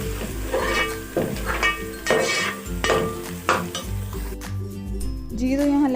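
Green chili and garlic-ginger paste fry in oil in a pan, a steady sizzle broken by repeated scraping and clinking stirs of a spoon against the metal, close and fairly loud.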